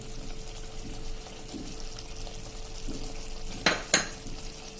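Fresh coriander leaves stirred into a potato and pea curry in a pan: a soft steady sizzle, then two sharp spoon-against-pan scrapes near the end.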